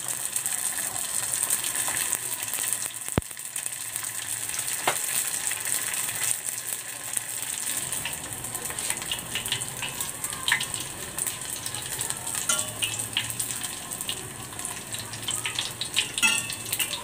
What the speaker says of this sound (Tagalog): And ipiprito na natin.